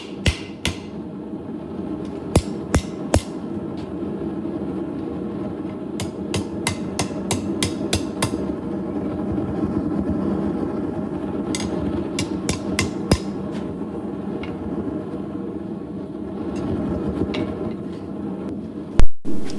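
Metal hammer blows ring out on hot rebar against an anvil in irregular bursts over a steady roaring background, close and loud, with quick runs of strikes separated by brief pauses.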